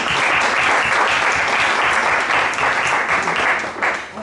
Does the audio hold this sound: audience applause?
yes